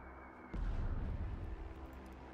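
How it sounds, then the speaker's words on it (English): Explosions from a dive bomb attack in a WW2 turn-based strategy game, Total Tank Generals: a sudden loud boom followed by a sustained rumbling roar that lingers and slowly tapers off. "Let's dive bomb their medium."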